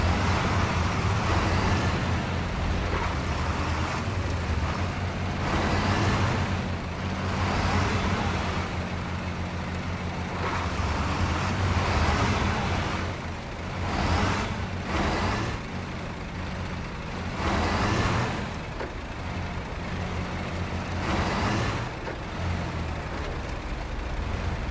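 Two trucks, the Kodiak and the evacuator, grind through rough terrain in SnowRunner, their engines droning steadily and loudly, swelling and easing in repeated surges with occasional hissing bursts.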